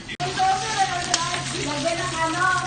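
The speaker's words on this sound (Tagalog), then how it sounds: "So ito, mag-prito na tayo." Continuous hot-oil sizzling with a sharp click at the start, steady and fairly close, with faint voice murmurs underneath.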